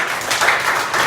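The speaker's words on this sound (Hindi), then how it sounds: "ताली बजाओ के लिए।" Schoolchildren clap together in a classroom at M S Public School in Azamgarh, producing a brief, dense burst of steady, fairly loud applause with no talking over it.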